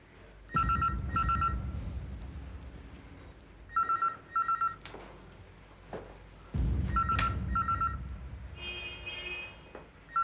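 A telephone rings in repeated bursts, each a double trill, with short pauses between them. It is loud and close, with no voices.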